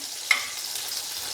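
Thyme stirred into panko browning in a pan: a soft scrape of the stir near the start over a steady, close sizzle and frying hiss that runs throughout, no talking.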